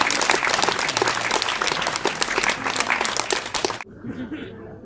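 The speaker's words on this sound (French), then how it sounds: "Ah, mais il faut l'applaudir" A burst of lively applause from a comedy show audience, dense clapping that stops abruptly, followed by a quieter room.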